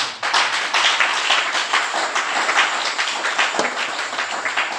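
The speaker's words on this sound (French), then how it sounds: "Acclamez le Seigneur un peu." A congregation applauds in a church service, steady dense clapping from many hands filling the room for several seconds at a fairly loud, even level.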